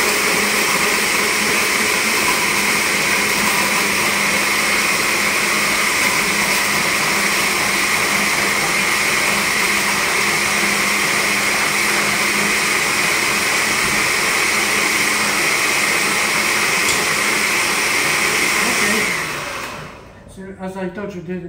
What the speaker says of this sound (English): don't get scared if I'm gonna put the blender on, because it's gonna make a noise